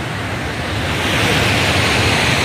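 Overflowing dam water spills into the river below in Kutch, a loud, continuous roaring rush that is close and unbroken throughout, with no talking.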